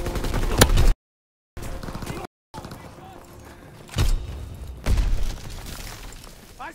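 Gunfire in the Call of Duty: WWII battlefield cracks out in loud, sharp shots and short bursts over a constant rumble of combat, with shouted voices in between.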